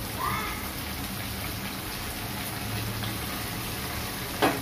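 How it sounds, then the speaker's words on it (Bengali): Ginger and garlic paste frying in oil, a steady close sizzle and crackle holding throughout, with a brief clink near the end. "আদা রসুনটা একটু তেলে ভেজে নিলাম"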